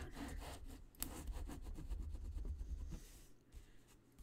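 Paper is burnished down along an edge on a large black and white Christmas album page, producing close, rhythmic rubbing strokes that repeat for a few seconds and then trail off into quieter handling sounds.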